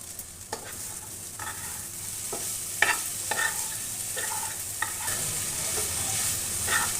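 Cabbage cooks in a pan over a low flame, with a soft steady sizzle and frying hiss and clear, intermittent scrapes and clinks of stirring close by.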